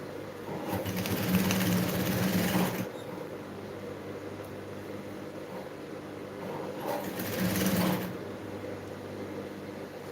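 A sewing machine stitches fabric lining in two short, fast bursts of whirring, separated by a quieter stretch of faint mechanical hum.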